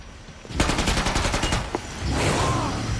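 Sustained automatic assault rifle fire in the video game Killing Floor 2, rapid repeated shots in a dense loud burst lasting several seconds, with a brief pause and more chaotic noise near the end.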